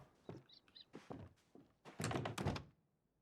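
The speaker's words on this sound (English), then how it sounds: "Who shut the door?" A door in the game Palia shuts with a muffled thunk, among several soft knocks and chirps before a louder cluster of clattering impacts, with no voices.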